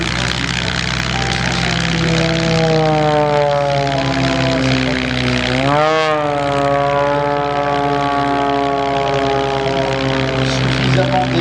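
A propeller aircraft flies past at an air show at La Ferté-Alais, its droning engine note rising then sweeping down in pitch as it passes close, loud and continuous throughout.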